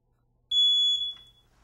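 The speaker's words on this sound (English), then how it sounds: "Now let's take a look at the smoke alarm in this room." A household smoke alarm in the main living area sounds a single loud, shrill electronic tone during a test. The tone lasts about half a second and then cuts off into quiet, with no talking.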